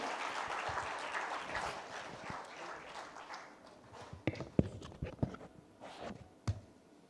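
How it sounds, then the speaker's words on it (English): An audience at a medical value travel summit claps, at first a dense burst of applause, then thinning out into scattered individual claps as it dies down. "Can we have a huge round of applause, ladies and gentlemen?"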